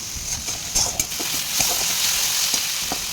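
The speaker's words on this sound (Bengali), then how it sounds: "আলুগুলো একটু লাল লাল করে ভেজে নেব" Potatoes fry in hot oil for a coriander chicken curry, making a dense continuous sizzle with scattered pops and the odd spatula tap, close up and steady.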